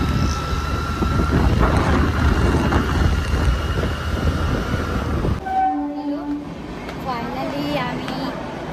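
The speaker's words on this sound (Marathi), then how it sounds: "आम्ही आता वसई दिवा ट्रेनने जाणार आहोत." A Vasai–Diva local train rumbles along with a heavy, continuous rattle for about five seconds. The noise then drops to a quieter interior where voices can be heard talking.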